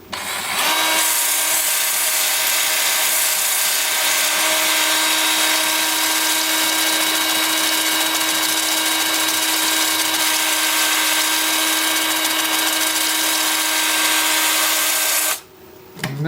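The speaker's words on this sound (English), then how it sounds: "with the lathe spinning forward at 420 RPM" A wood lathe spins a Russian olive live-edge bowl at 420 RPM, a loud steady whir with a faint whine that runs unbroken and then briefly drops away near the end.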